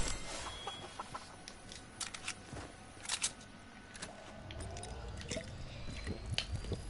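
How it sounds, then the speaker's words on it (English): An infected chicken in the video game Fortnite clucking, with repeated short clucks and squawks amid busy game sound effects, fairly close and continuous throughout. "Kill the infected chicken."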